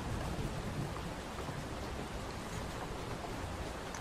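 Steady rain ambience inside the VRChat game world, a constant even hiss of falling rain with no breaks, fairly quiet and alone without talk.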